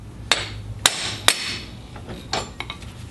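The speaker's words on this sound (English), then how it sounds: "here's my pickle fork and a hammer to break this thing loose" Three sharp metallic hammer strikes on a pickle fork in quick succession, freeing a golf cart steering part, close and ringing, followed by a couple of softer knocks.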